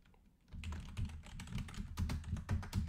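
Fast, uneven keystrokes on a computer keyboard, close and clear, starting after a brief quiet moment and continuing as a busy clatter.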